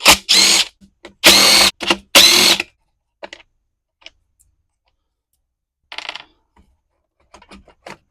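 A power drill backing out T27 Torx bolts from the cover of a Stihl BG86 leaf blower: three loud short whirring bursts close by, then quiet clicks and small metallic rattles of parts being handled.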